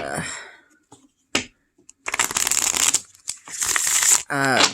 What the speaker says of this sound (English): Just like any other Make Playing card deck I have, it shuffles great.